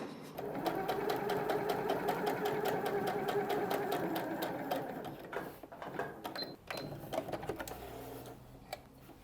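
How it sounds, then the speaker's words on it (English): A sewing machine stitches down fabric edges with a centimetre seam allowance, a fast, close rhythmic whirr of needle strokes for several seconds, then stopping into softer handling clicks and faint rustles. "we're going to sew down the edges a centimetre seam allowance"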